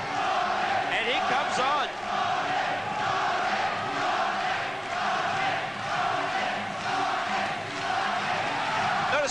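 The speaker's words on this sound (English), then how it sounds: "The crowd setting up the chant of Ronnie, Ronnie." A large crowd at a British Muay Thai boxing bout chants a fighter's name in a steady, loud roar of massed voices, with a commentator talking over it.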